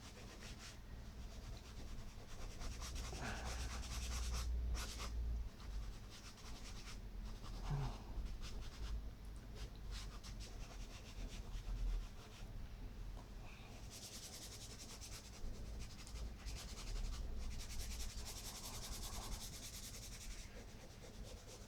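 Black pastel rubbed across paper while colouring a space scene, a steady dry scratchy rasp with repeated strokes running continuously and close up, no talking.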